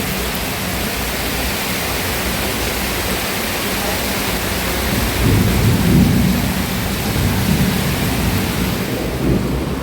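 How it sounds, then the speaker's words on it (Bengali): Heavy rain pouring down continuously as a dense, loud roar, with a low rumble of thunder swelling midway, steady throughout with no voices. "এই দেখো প্রচণ্ড বৃষ্টি হচ্ছে"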